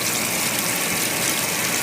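Washing machine filling with water, a steady loud gushing rush of incoming water filling the short span without pause.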